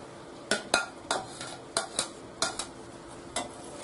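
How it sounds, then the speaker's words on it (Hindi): Chopped ridge gourd tipped into half-cooked dal in a pot, heard as a string of sharp, close metallic clinks and taps of a spoon against the vessel, spaced irregularly with no talking. "अब इसमें हम ये कटी हुई जो तरोई है इसे डालेंगे।"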